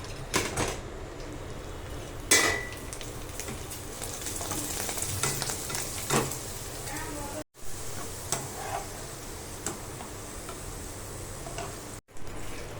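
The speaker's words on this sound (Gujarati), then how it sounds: "હવે ઝીણા ભૂંગળા તળવાના છે." Thin bhungla snack tubes fry in hot oil for a puffed-rice chevdo, giving a steady close sizzle and crackle broken by occasional clicks and stirring knocks, running for several seconds with brief cuts.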